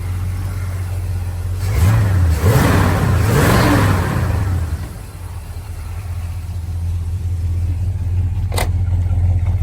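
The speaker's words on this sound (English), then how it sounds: "Sounds pretty good. Got some dual exhaust on it." A 1973 Plymouth Road Runner engine rumbles up close with a deep dual-exhaust tone, revving briefly a few times before settling back to a steady idle.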